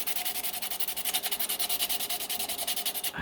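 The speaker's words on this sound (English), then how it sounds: "So sanding it off with the raw resin, for example" Sandpaper is rubbed back and forth across a raw resin model kit part for a Johnny 5 toy, making rapid rhythmic rasping strokes close up that stop abruptly at the end.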